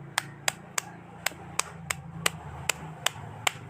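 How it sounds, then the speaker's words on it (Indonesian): A hammer tapping a bonsai pot to loosen the plant, about a dozen sharp close knocks in a steady rhythm. "Saya pakai palu ya."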